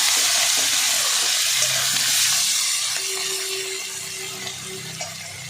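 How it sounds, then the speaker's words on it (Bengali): Onion and garlic sizzle and fry steadily in a pan, a close, continuous crackling hiss that slowly softens, with occasional stirring and no speech. "দেখো আমার পেঁয়াজ রসুন দুটোই হালকা হালকা ব্রাউন ব্রাউন ভাব এসে গেছে তো আমি আর ভাজবো না"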